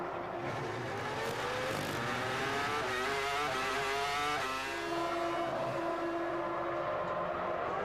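Formula One race cars at the 2002 Canadian Grand Prix scream past, with engine notes rising and falling as they accelerate, loud and continuous, one car's pitch sweeping in and out.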